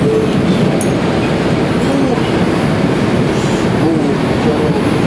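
A New York subway train, out of passenger service, rumbles steadily toward East 180th Street, with a constant roar of wheels on track and faint squeals, loud and close throughout.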